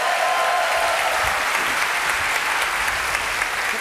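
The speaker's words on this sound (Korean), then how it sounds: "박수 주세요." Steady, dense applause from a studio audience at a Korean TV comedy show, continuous clapping with no pauses, filling the room at an even loudness throughout.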